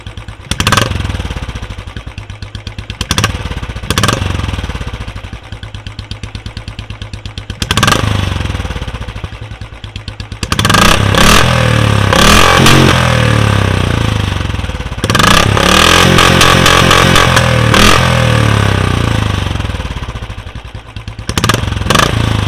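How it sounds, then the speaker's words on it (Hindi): A Royal Enfield Classic 350 fitted with a short offset angular free-flow silencer revs while standing still, its loud thumping exhaust climbing in repeated bursts and settling back to a lumpy idle between them. "तो दोस्तों आप लोगों ने सुना इसका standing sound offset angular silencer का, जिसे शॉर्ट वाटर छोटा पंजाब भी कहते हैं"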